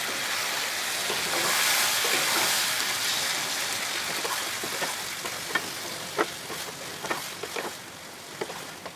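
Mutton curry frying in a pan, a steady soft sizzle with scattered scrapes and clicks of stirring that grow more frequent toward the end.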